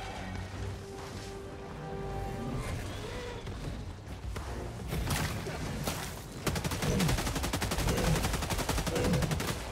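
Sickle laser rifle in Helldivers 2 firing at a charger during a fight with Terminids, sustained rapid bursts of gunfire building from scattered shots to a dense, continuous loud stream near the end.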